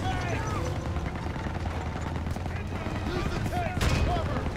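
MG42 machine guns firing in the Call of Duty WW2 video game: dense, continuous bursts of gunfire blend with battle noise throughout, while voices talk over the combat.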